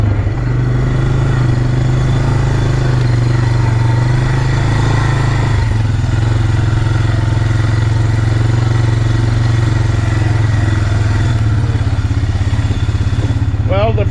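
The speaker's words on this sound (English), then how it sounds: "now that I have the quad bike running again" A quad bike engine runs steadily and loudly up close, with a constant low drone and mechanical clatter throughout, barely changing in pitch or level.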